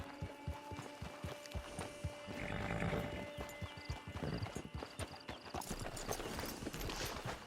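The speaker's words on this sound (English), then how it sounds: "Get your horse." A horse in Red Dead Online walks with regular, close clip-clop hoofbeats, and a whinny and snorting breaths break in partway through over a low ambient hum.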